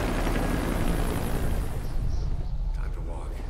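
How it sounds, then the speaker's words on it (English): A helicopter in the video game Metal Gear Solid V, a loud, steady low rotor roar with rumbling bass that holds throughout, thinning slightly near the end. "note to self, helicopter not friendly"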